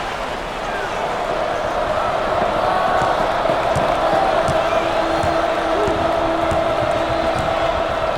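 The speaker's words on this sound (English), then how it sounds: "The crowd starting to chant." A basketball arena crowd roars steadily during an Arizona State versus Arizona game and begins to chant, a dense, loud wash of many voices with faint squeaks and thumps from the court.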